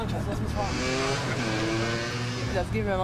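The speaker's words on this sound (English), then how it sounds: "Taxi to my race Hummer. Let's drive." Engine of an H1 race Hummer running steadily as it drives, a sustained loud rumble with shifting tonal whine, while voices talk over it.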